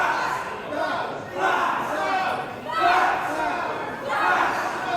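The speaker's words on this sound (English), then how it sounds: "If you're wondering what the crowd is chanting" A wrestling crowd chants in rhythmic swells, with three or four loud rising waves of massed voices filling an arena at a steady pace.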